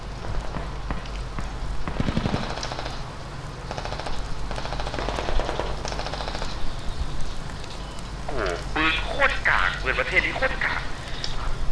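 Rapid bursts of gunfire in the video game Squad crackle through a busy mix, with single shots and short volleys under continuous excited talk.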